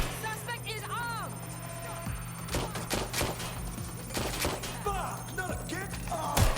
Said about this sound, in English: you kind of have to get used to the shooting in this